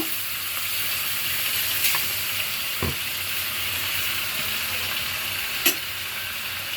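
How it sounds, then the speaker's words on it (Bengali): Meat from a Qurbani cut frying in ghee for Peshawari mangsho, a constant close sizzle with occasional stirring knocks and scrapes, no voices. "এখন এই ঘিয়ের সাথে মাংসটা আমি কিছুক্ষণ সময় নিয়ে ভেজে নিব।"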